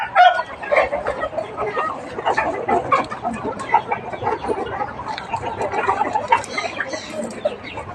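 Fighting cocks at a game-fowl farm crow and cluck continuously, several birds overlapping at close to moderate distance, with steady barnyard activity and no pauses throughout.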